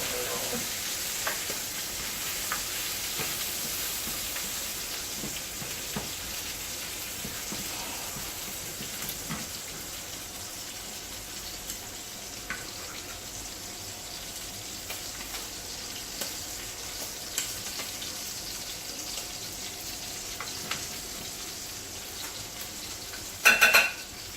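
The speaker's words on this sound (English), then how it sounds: "This is why I don't deep fry things." Food deep frying in hot oil, a steady dense sizzle running throughout with faint clinks of utensils, ending in a brief louder clatter.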